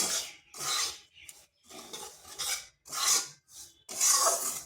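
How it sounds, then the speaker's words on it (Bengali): Flour and semolina fry over low heat in a pan while being stirred, producing close, repeated scraping strokes in irregular bursts with short gaps, no voices. "আঁচটা স্লোতে রেখে এটাকে আমি ভেজে নিচ্ছি"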